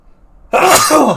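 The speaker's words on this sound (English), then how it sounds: "I gotta sneeze" A single loud, sudden burst of breath from one person, sharp onset then a sustained rasping exhale lasting about half a second, after near silence.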